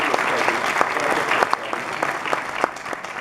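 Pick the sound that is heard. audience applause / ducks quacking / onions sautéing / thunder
audience applause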